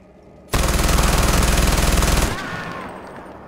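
Automatic gunfire in Far Cry 4 on a custom Thunderdome map: one loud, sustained burst of rapid shots lasting nearly two seconds, cutting off into a lingering echo.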